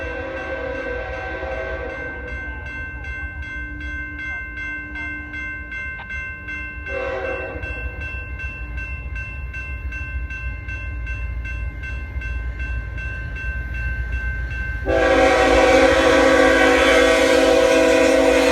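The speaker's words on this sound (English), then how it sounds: "another BNSF Intermodal train was on its way" A BNSF intermodal freight train rumbles past at close range, sounding long, steady horn blasts that break off and resume, growing louder toward the end.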